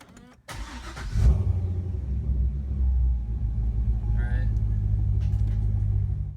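A C6 Corvette engine cranks and catches after a harmonic balancer upgrade, a sharp start followed by a loud burst then a steady, close idle rumble; a brief high squeak appears midway.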